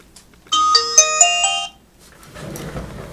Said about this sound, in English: excuse the phone, y'all.